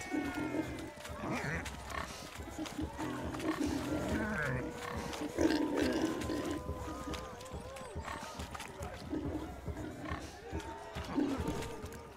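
Pigs grunting and squealing in The Witcher 3, a pen of swine snorting repeatedly at close range, steady and busy throughout with no talk.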